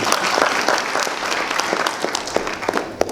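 A crowd at a Kisumu KYEOP graduation ceremony bursts into steady, dense applause, many hands clapping at once, with a few sharper claps standing out near the end.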